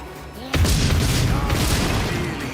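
A stun grenade detonates in the video game Warhammer 40K: Rogue Trader with a loud, sudden boom that rolls on as a heavy rumbling tail for about two seconds.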